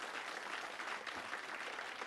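Brief burst of dense applause from an audience at an anniversary celebration, even and full-bodied throughout with no voices on top.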